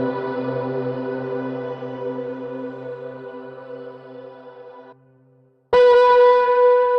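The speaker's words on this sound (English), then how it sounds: "listen to these reverb tails" Bright synth bell tones ring out, fading into long echoing tails, then a sudden louder bell chord bursts in with shimmering reverb.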